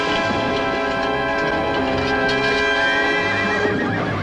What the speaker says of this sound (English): Take his horse, Don Nacho.